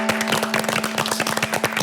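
Studio audience on a Korean TV talk show gives a dense, steady round of applause, many hands clapping together without pause, with a faint steady tone running underneath.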